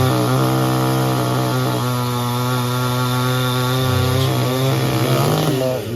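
Chainsaw roars at close range, cutting through a tree trunk with a loud sustained engine whine that dips and rises in pitch as the blade bites into the wood, no talk.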